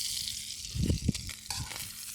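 Duck skin sizzling as it browns in a pan, a steady bright hiss with a few louder crackling pops and stirring sounds partway through.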